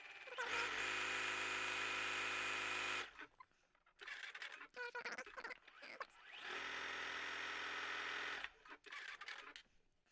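Sewing machine stay stitching garment fabric for a wrap pinafore, running loud and steady in two long bursts with a pause and handling noises between them.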